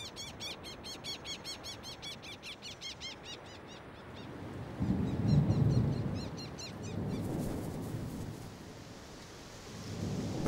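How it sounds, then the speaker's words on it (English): Thunder rumbles in low and swells around the middle as the first seasonal rains arrive over the Canary Islands, with bird calls chirping above it early on and rain hissing steadily beneath. "The first rains arrive."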